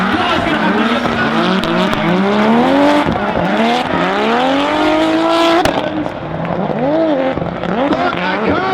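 Drift cars in the British Drift Championship at Rockingham Speedway scream past with revving engines rising and falling and long tyre squeals, loud and close, with a commentator talking over them.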